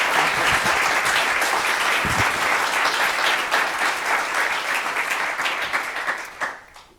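Sustained applause from an audience after a lecture, many hands clapping steadily before it thins out and dies away near the end.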